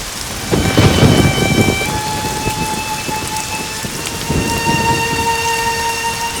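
A sudden downpour beats down loudly and steadily, with thunder rumbling close by near the start and again further on. Tonal hums sit beneath the storm, and nobody speaks.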